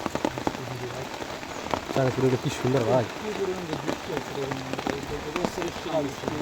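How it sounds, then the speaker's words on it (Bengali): Heavy rain pours steadily in a dense hiss, with someone talking over it close by. "এবছরের সাত দিনে সেরা বৃষ্টি"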